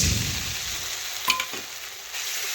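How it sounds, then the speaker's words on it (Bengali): A paste of ginger, garlic, cumin and pepper hits hot oil with turmeric and chili powder already frying in the pan, and a steady, close sizzle follows, broken by a brief metallic clink of a utensil midway. "এখন আমি বাটিতে আদা রসুন বাটা ও জিরে বাটা গোলমরিচ বাটা ছিল সেটা এখন ঢেলে দিচ্ছি।"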